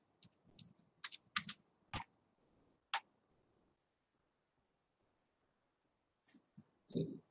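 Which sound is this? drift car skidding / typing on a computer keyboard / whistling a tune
typing on a computer keyboard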